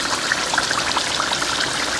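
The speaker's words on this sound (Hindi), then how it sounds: "1 कप पानी डालें।" One cup of water is poured into a pot of meatball and egg curry, making a short, even, hissing pour that runs steadily from start to end, close by and alone.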